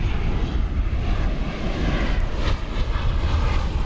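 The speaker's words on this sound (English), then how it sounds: "Here's American Flight 404. It's coming in from Roatan in Mexico." An American Airlines jet on Flight 404 comes in at Dallas Fort Worth Airport, its engine roar steady and loud throughout without voices.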